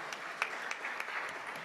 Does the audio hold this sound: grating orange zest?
no